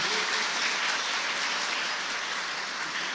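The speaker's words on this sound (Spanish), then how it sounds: "¿por qué no le damos un fuerte aplauso a todos los meseros que nos han acompañado esta noche" Dinner guests at a married couples' evening applaud the waiters, a dense, even wash of clapping from a crowd that holds steady for a few seconds with no voices over it.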